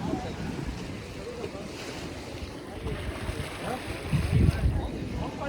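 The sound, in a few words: sea waves at Gomti Ghat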